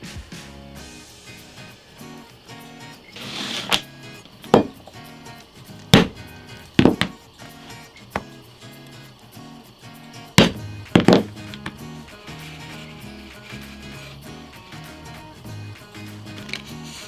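Leather being cut out for a bag's lining pocket: a handful of sharp, close chopping thunks and taps, separated by quiet gaps, over a faint background hum.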